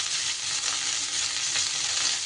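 Cauliflower pieces frying in hot oil until reddish-brown give a steady, close, dense sizzle that crackles without pause from start to end, with no voices.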